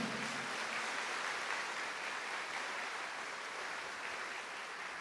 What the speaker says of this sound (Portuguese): Dá uma salva de palmas para a rainha.